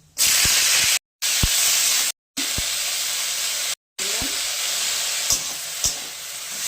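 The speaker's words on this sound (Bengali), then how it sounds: "এবার একটু কালো সরষে ফোড়ন দিলাম, ফলগুলো দিয়ে দেবো।" Sour fruits and black mustard seeds frying in hot oil in a kadai give a loud, steady sizzle that cuts out in short gaps, with a few soft knocks of stirring and no voices.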